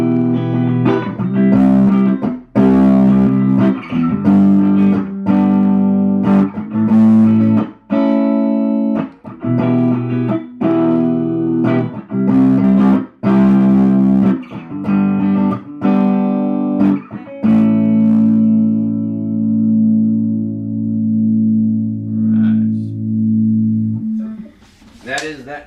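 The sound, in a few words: guitar played through Vox valve preamp amplifier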